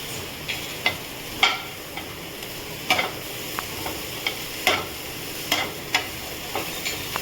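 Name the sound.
stirring broccoli stir-fry in pan on high flame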